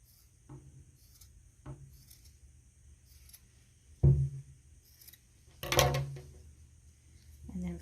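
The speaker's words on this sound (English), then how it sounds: "we're going to trim off the top to make it shorter and even" Scissors snip through a fluffy yarn pom-pom on a small knitted hat ornament in a few separate, fairly quiet cuts, with a louder crisp snip near the middle and soft handling rustle between them.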